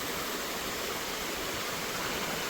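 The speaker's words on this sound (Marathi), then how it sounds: "हा छोटा धबधबा, आणि हे बघू शकता तुम्ही मोठा धबधबा" A waterfall at Morgiri fort roars as continuous broadband rushing water, steady and fairly close, with no voices over it.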